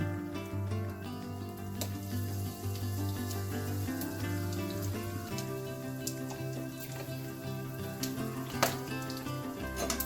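Whole garam masala and a pinch of asafoetida tempering in hot oil: a continuous soft sizzle and crackle, close and fairly quiet, with scattered faint pops and clinks over a low background hum.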